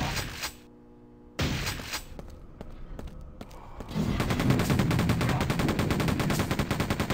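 Gunfire from the shooter video game Quake 2 RTX, with spaced single shots followed by sustained rapid automatic fire that grows loud and dense toward the end.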